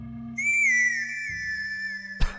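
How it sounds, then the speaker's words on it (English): A character blows a whistle in a video game, producing one sustained clear tone lasting almost two seconds over a quiet low musical drone, then a brief thud at the end. "You have no idea why you just blew into this whistle"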